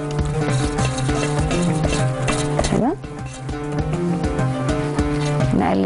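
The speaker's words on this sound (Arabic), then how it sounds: "نقلب تقليبة" Flour for béchamel sauce stirred in a pan with a spoon, producing a continuous close scraping and rhythmic clinking with a soft sizzle beneath, a brief pause midway before stirring resumes.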